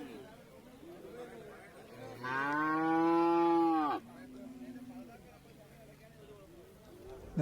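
A buffalo at a cattle market selling buffaloes and bulls gives one loud, sustained moo of about two seconds, set against murmuring voices and market chatter.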